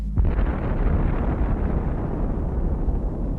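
A bomb explosion from early atomic-weapon history bursts in with a sharp onset and then rolls on as a loud, sustained low rumble, heavy and continuous for several seconds with no voices.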